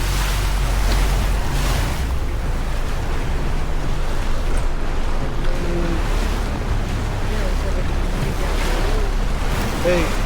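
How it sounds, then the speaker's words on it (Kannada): A boat rides the sea at Kotor, Montenegro, with loud continuous waves and wind rushing across the microphone the whole time. "ಬೋಟ್ ಅದು."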